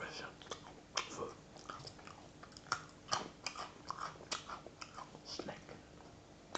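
Close, crisp bites and crunchy chewing of Russian sushki bread ring cookies repeat in an irregular rhythm, with soft breathy sounds between the crunches.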